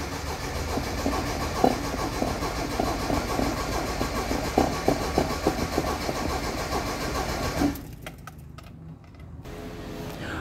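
A 1985 Daihatsu Charade G11 with a 1.0-litre carburetted engine cranks for several seconds without catching, the starter churning loudly in a steady rhythm before it abruptly stops, leaving quieter background noise.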